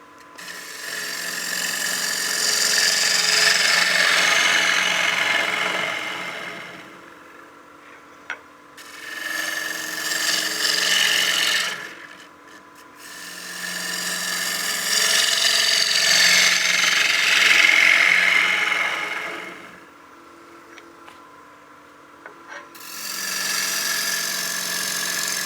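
A lathe turning tool cuts and scrapes a wood platter in sustained raspy passes, each several seconds long, with brief pauses between, close and fairly loud with no talk.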